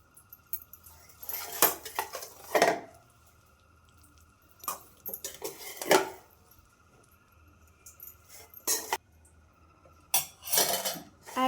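A spoon scrapes and clinks against a pan while spicy village-style blood fry is served into a bowl, giving several short bursts of metallic clatter with quiet pauses between them, close and moderately soft.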